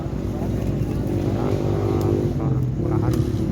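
A motorcycle engine labours along a landslide-damaged road, a loud, steady close rumble running the whole time with wind noise and voices mixed in.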